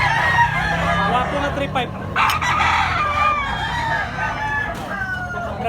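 A yellow-legged bulik stag rooster crows close by, two or three loud crowing calls with some clucking, while someone talks over it.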